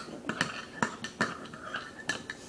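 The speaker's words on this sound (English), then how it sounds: "I'm going to mix this carefully around" Spoon clinking against a glass while stirring rainbow tea with pomegranate, a series of light, bright taps at an uneven rhythm, close and moderately quiet.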